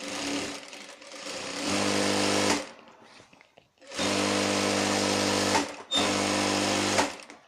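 A sewing machine stitches a petticoat in three sustained whirring runs, the middle one long, separated by short pauses, loud and close.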